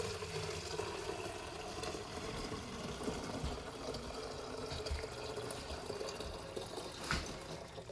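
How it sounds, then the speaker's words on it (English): Milk is poured into a calf's feeding bottle on a farm, a quiet continuous liquid fill with soft trickling and splashing over a steady background. "Pour all the milk in."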